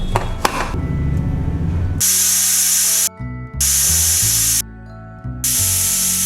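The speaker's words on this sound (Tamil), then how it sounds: "குக்கர் மூடி போட்டு ஒரு 3 விசில் விட்டுடலாம்." A pressure cooker whistle blasts loud hissing steam in long bursts with brief pauses, a piercing tonal shriek riding over the rush, while cooking rasam rice.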